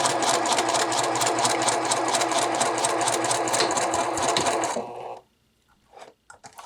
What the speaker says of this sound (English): Make sure I'm stitching straight.